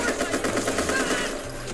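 Rapid automatic gunfire in the Watch Dogs Legion video game, a dense burst of shots fired in quick succession, loud and close, running throughout with no pause.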